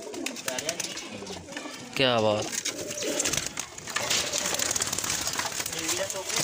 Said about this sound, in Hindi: कबूतरी है कबूतरी है, देखो कबूतरी का शौक करो